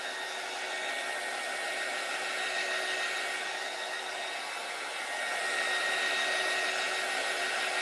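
A hair dryer runs continuously with a steady airy whoosh and whine, close by, drying rice paper on a handmade vintage wooden door hanger; no talking.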